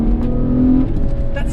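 Hyundai Tiburon engine revving with a steady low exhaust drone that swells briefly mid-rev, close and loud, with no speech over it.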